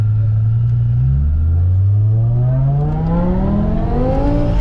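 Supercharged 650hp V10 BMW M5 accelerating hard, a loud, close engine note climbing steadily in pitch with a rising supercharger whine layered over a deep rumble.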